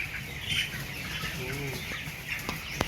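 Broiler chickens on a provincial farm, disturbed while being handled and weighed, give low clucks and a few brief squawks under steady close coop noise.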